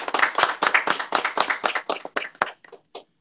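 Close, brisk clapping by a small group welcoming a guest into a room, about three seconds of rapid sharp claps that thin out and stop.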